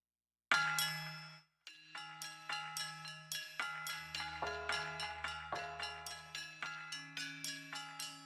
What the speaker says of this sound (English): this is more like arpeggiated bells